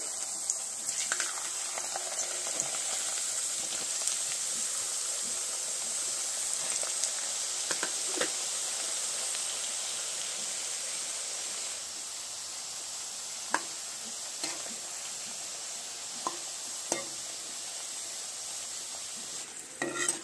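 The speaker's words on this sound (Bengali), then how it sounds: "এইভাবে কয়েকটা ব্যাচে ভেজে নেব।" Raw potato chip slices frying in a batch of hot oil, a steady bright hiss of bubbling oil with scattered pops and occasional clinks, close by and without talk.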